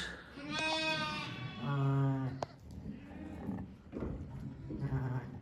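Lambs and sheep bleat on a farm where newborn lambs are arriving, several wavering calls overlapping at close range, one loud drawn-out bleat standing out, with a faint voice nearby.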